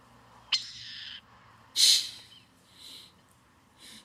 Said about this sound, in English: a burrowing owl?